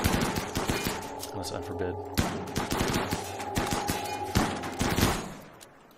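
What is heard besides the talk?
gunfire from colonists in the video game RimWorld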